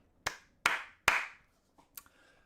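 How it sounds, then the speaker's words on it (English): Three sharp, loud claps in quick succession from football players applauding travelling fans, then a couple of fainter hand taps trailing off. "getting a round of applause from the City players"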